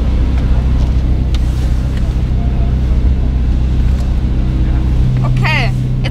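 A 2021 Mercedes-AMG GT Black Series engine drones at a low, steady pitch throughout, heard from inside the car, with voices talking over it and a brief squeal near the end.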